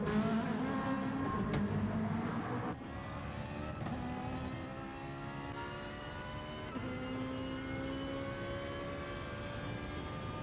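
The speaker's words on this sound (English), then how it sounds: "Yeah, it's got a noise of its own, the Ferrari." A Ferrari race car engine screams around a track in a racing game broadcast, its pitch rising and falling in sweeping revs through gear changes, steady and fairly loud with no talking.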